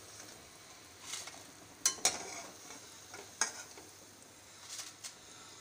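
Quiet sizzling of oil after frying pakoras, with a few sharp clinks and scrapes of a slotted spoon against the pan as the fritters are lifted out, spaced irregularly.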